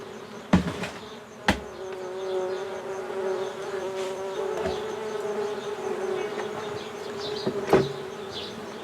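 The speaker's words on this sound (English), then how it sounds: "He keeps bees. With over a dozen hives" Honeybees buzz steadily around more than a dozen hives kept by a beekeeper, a close, continuous drone with a few sharp knocks or taps breaking through.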